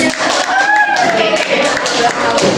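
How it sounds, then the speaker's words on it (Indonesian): Junior high school students in a classroom clap together in a brisk, dense burst of applause, with voices and chatter mixed in throughout. "Oke, tepuk tangan."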